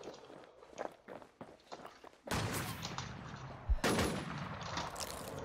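Bursts of rapid gunfire ring out in the game Infestation: The New Z, loud and dense, following softer thumping footsteps.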